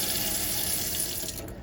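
Water runs from a tap in a steady, continuous stream, a constant close rushing hiss with no breaks across the short stretch.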